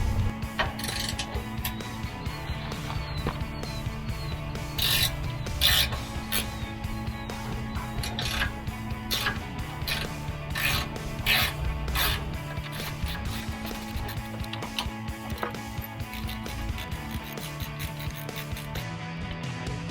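A 14mm wrench works the bolts on a trailer tongue jack, producing close, repeated metallic ratcheting clicks and creaky mechanical turns in an ongoing rhythm.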